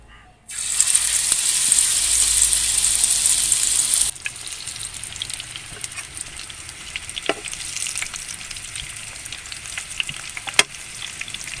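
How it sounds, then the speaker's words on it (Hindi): Chapli kabab hits a hot pan with a loud burst of sizzling, then settles into steady frying crackle with occasional pops. "इसे हम अच्छी तरह से फ्राई कर लेंगे।"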